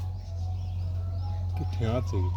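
A quiet low hum, then near the end a female pigeon gives a short, throaty coo, close by.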